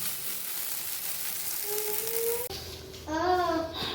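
Soaked poha (flattened rice) with salt and sugar sizzles and fries in a pan, a bright continuous hiss with stirring, while a voice and tonal chatter cut in partway through.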